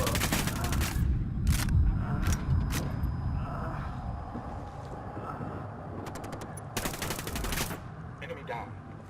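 Video-game gunfire in Ghost Recon Wildlands: loud, close bursts of automatic rifle fire in rapid rattling volleys, separated by brief pauses, over a rumbling background.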